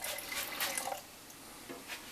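Liquid rennet poured into warm milk, just off the heat, while making 30-minute mozzarella: a soft, brief splashing trickle into the pot, fairly quiet and close, fading after about a second into faint room hiss.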